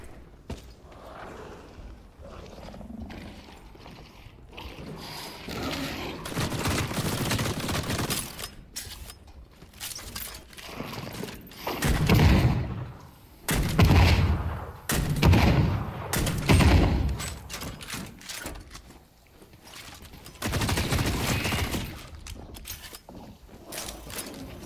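Sustained bursts of automatic gunfire while shooting monsters in The Cycle Frontier, a sci-fi shooter game, with heavy repeated volleys swelling and fading, mixed with mechanical clanks and game effects.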